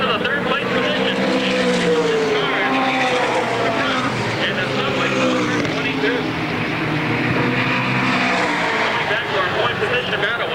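Race cars speed down the straightaway at Motordrome Speedway on opening day 1992, a loud sustained engine roar with rising and falling pitch, heard with a commentator talking over it.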